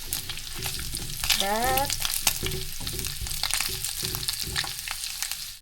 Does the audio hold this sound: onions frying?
yes